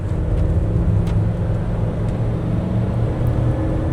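A 1995 Ford F150 Eddie Bauer 4x4 pickup with a 5.0 V8 accelerating under steady throttle, heard from inside the cab as a continuous low engine drone with road rumble, no talk.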